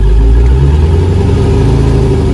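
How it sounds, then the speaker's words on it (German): A big-block car engine revs as the accelerator pedal is pressed, a loud close deep roar that swells briefly and then settles into a rumbling drone. "Und jetzt drücken wir vorsichtig aufs Gaspedal."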